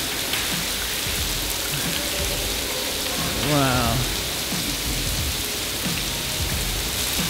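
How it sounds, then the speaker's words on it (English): Steady artificial rain pours down in Dubai's indoor Rain Room, a dense even hiss filling the space from start to end while a voice briefly exclaims near the middle. "This is where you get rain in Dubai."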